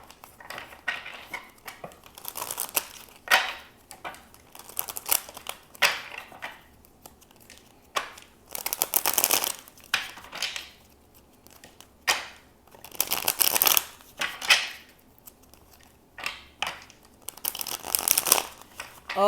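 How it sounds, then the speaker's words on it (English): Tarot cards are shuffled by hand in repeated bursts of crisp riffling and crinkling, near and fairly loud, separated by short pauses. "I already have a difficult time shuffling these cards."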